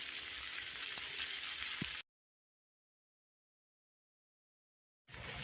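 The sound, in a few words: meat frying and sizzling in a stir fry pan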